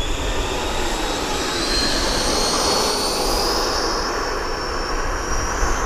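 A Banana Hobby MiG-17 RC jet with a new 90mm EDF engine roars past at full power with afterburner, a loud steady high-pitched turbine whine and rushing air throughout, close and unbroken.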